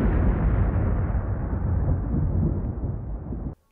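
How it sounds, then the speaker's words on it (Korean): A heavy, sustained rumbling blast like a volcanic eruption, dense and loud throughout, rolling on for several seconds before cutting off abruptly. "화산이 폭발하면 시커멓고 몸에 안 좋은 화산재들이 날아오릅니다"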